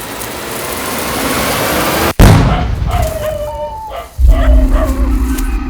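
A firecracker goes off with a sharp, loud crack about two seconds in, and a second burst follows roughly two seconds later, with dogs barking and outdoor background noise around the blasts.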